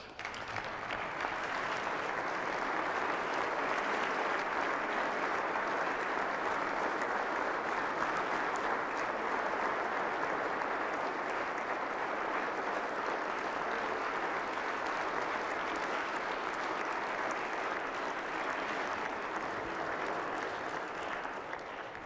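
Sustained, dense applause from a large audience at a state address, loud and even throughout with a constant wash of many hands clapping and no voices on top.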